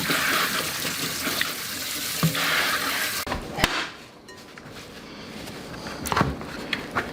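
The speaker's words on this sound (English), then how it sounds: "I'm going to drain my cauliflower" Water from steamed cauliflower pours out into a sink in a loud rushing stream that stops abruptly partway through, followed by quieter clatter and a few sharp knocks.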